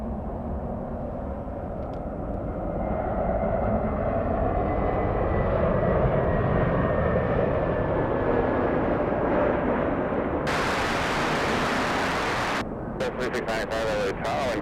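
A JetBlue airliner's engines roar at LAX airport, a broad steady rumble that swells and holds, then a sharp wideband rush of noise near the end, with a voice faintly in the background.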